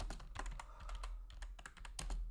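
Quick, soft clattering keystrokes on a computer keyboard, close and quiet, in a brief uneven burst of typing with no talking.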